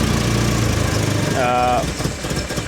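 A Mini's engine, freshly fitted with a new head gasket and still needing tuning, idles with an uneven, lumpy rumble, running steadily for a few seconds before the sound dips and wavers.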